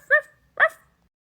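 A child's toy makes a dog sound, two short electronic barks in quick succession, close and clear with no talking around them.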